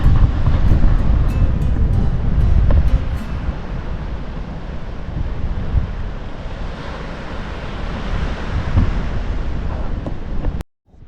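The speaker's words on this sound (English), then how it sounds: "It's just very, very windy." Strong wind buffets the microphone while ocean waves roll and wash onto a beach in Madeira, a loud, steady roar lasting about ten seconds that cuts off abruptly near the end.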